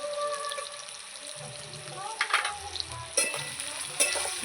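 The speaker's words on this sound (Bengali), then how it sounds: "আলু পেঁয়াজ একসঙ্গে ভেজে নেব ভালো করে" Potatoes and onions frying together in a pan for a Bengali katla fish curry, a steady close sizzle with a few stirring scrapes and clinks of a spatula partway through.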